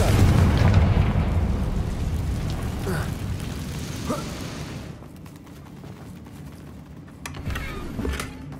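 A Confringo fire spell blasts a damaged bridge in the video game Hogwarts Legacy, giving a loud, heavy explosive boom at the start that rumbles and decays over several seconds, with smaller crackling bursts afterward.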